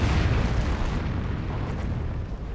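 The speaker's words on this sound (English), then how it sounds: "Get another Calliope Rocket Barrage." Calliope rocket barrage explosions in the World War II strategy game Company of Heroes, a continuous rumbling roll of blasts, loud and heavy at first and thinning slightly toward the end, with no voices.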